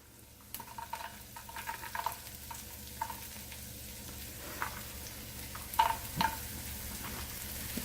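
Bell pepper and onion sizzle steadily in a pan as an omelet filling, a soft continuous hiss broken by several light clinks and stirring taps from a utensil, with no one speaking.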